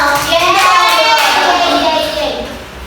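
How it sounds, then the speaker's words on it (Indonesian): A short burst of many small primary-school children's hands clapping together at once in a classroom, lively and close, fading out after a couple of seconds amid children's voices. "tepuk tangan untuk kita semua"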